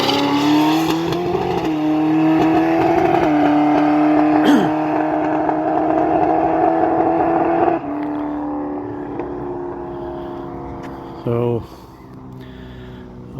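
A drag racing car at Atmore, set up with nitrous, makes a pass down the strip, its loud, steady engine roar holding for about eight seconds before dropping off, with a brief burst near the end.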